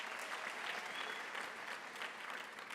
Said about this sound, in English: Can we also give our academics a big round of applause